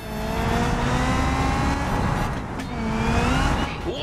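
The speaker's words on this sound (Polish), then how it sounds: "Włączamy nitro, czekaj." Car engine in the BeamNG driving game roaring with nitro boost engaged, a loud sustained revving drone with rising pitch sweeps, swelling again near the end, no talk over it.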